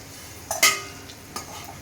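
Onions frying in a pan, a soft sizzle under a couple of brief scraping stirs, close and fairly quiet.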